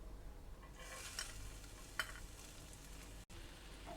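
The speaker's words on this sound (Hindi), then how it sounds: "ऑयल गर्म हो जाए तो हम इसमें प्याज डाल देंगे" Onions frying in about two tablespoons of hot oil for a chicken and vegetable bread patty filling give a faint, steady sizzle, with a couple of brief stirring clinks partway through.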